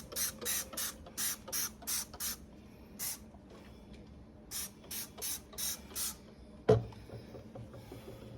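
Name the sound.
spraying Dawn Power Wash dish spray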